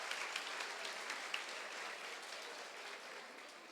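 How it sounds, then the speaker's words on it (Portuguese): A church congregation claps together for the millennials, a steady, fairly quiet wash of applause that holds evenly throughout. "Salva de palmas para os millennials."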